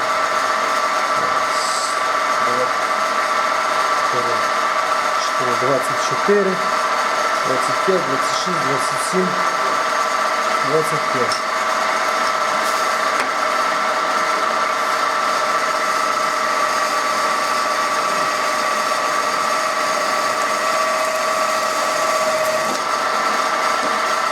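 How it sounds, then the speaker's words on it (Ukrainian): A machine drills a cover for a 300 bar hydraulic cylinder, giving a steady, loud whirring drone with a constant tone throughout and some scattered knocks and clunks partway through. "Так, сверлимо."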